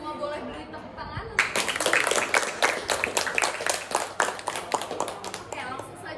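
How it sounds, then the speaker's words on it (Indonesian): Students at a school talk show break into applause, a dense burst of many hands clapping, fairly close and lively, that thins toward the end, with a voice talking just before it. "Kita semua boleh beri tepuk tangan."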